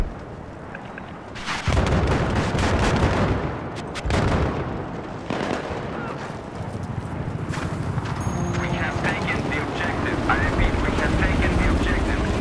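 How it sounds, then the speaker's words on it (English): Battlefield 3 combat: an enemy helicopter drones amid bursts of gunfire and explosions, loud and close, with a voice talking over the action. "Enemy helicopter spotted,"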